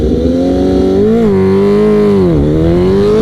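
A liter-class sport motorcycle accelerates hard from a standstill, its engine note climbing in steady rising pitch sweeps with brief dips at each gear change, loud and close throughout.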